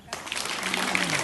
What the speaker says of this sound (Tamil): கைதட்டுங்களா?